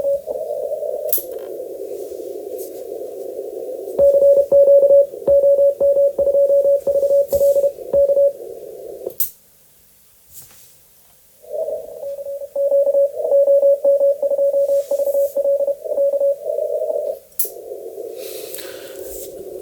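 Morse code tones come through Yaesu FTDX10 and Elecraft KX3 amateur radio receivers, a low steady keyed tone with rapid dot-dash patterns in long runs, interrupted by a brief quiet gap, loud and clear without talk.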